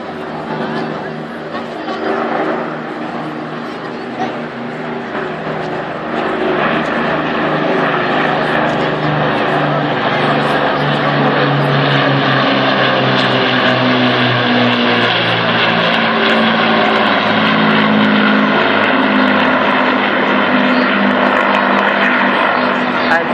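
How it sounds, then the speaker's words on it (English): Two Avro Lancaster bombers fly past at an air show, their propeller engines droning in a loud, steady roar that builds and holds, with a commentator talking over it. "it's the RAF's Lancaster that's leading, and the Canadian Lancaster is second"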